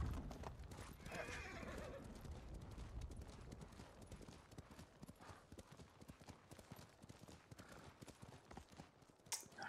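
Horse hooves clip-clop at a steady trotting rhythm while a horse whinnies in the video game Ghost of Tsushima, close and clear. Dense galloping and footfall noise dominates, with brief game sounds mixed in.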